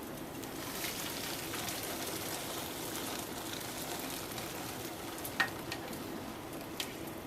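Boiling liquid being poured into a cooking pot, a continuous hissing, bubbling wash that holds steady throughout, with a couple of brief clinks near the end and no talk.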